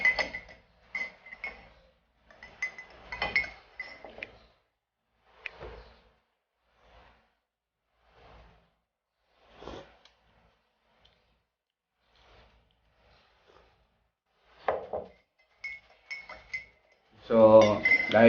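A spoon clinks and taps against a cup while stirring Equal zero-calorie sweetener from a stick into black coffee: scattered light chinks with quiet gaps between them, then a louder burst of clatter at the end.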